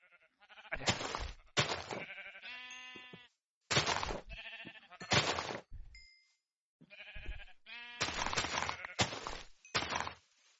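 Sheep in the Minecraft video game bleat again and again in short, loud, close bursts, with brief silent gaps between the calls and no talking over them.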